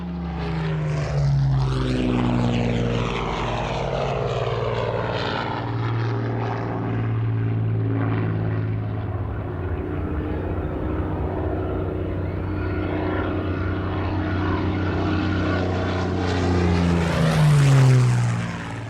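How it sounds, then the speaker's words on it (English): A Hawker Hurricane propeller fighter flies past at the Kemble airshow. Its loud piston engine drones continuously, swelling and shifting in pitch as the plane passes overhead. "The Hurricane was the mainstay of fighter command during the Battle of Britain, but is often eclipsed by the Spitfire."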